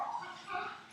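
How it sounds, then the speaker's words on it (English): Poodles bark and yip at home in the evening, a short burst of high, slightly muffled dog vocalizing off to the side. "So you can hear my dog in the background."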